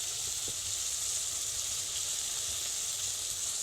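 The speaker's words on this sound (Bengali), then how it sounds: "যত সময় না পর্যন্ত মশলাতে তেল ছাড়ছি তত সময় পর্যন্ত হালকা আছে মশলাটাকে কিন্তু কষাতে হবে" Spice paste for a broccoli curry fries in hot oil, giving off a steady, even sizzle and hiss that holds throughout with no voices.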